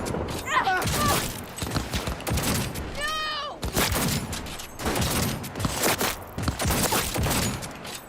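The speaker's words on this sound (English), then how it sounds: "I heard gunshots this way." Gunfire in the Cyberpunk 2077 video game: a busy fusillade of shots and impacts runs throughout, loud and dense, mixed with game effects and voices.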